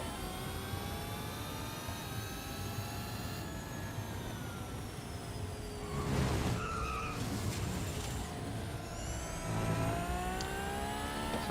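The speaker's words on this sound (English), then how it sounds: "I could have got so much skidding done there." Car tyres skid and squeal in the Real Racing 3 racing game, sustained tonal screeching over a steady engine roar, with louder bursts of skidding midway and again near the end.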